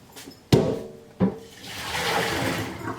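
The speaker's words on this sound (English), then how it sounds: "So I'm actually going to dump out this water now." Water dumped out of a pot after blanching garden tomatoes, two sharp splashing pours landing in a sink, then a steady rushing stream of draining water, close and loud with no talking.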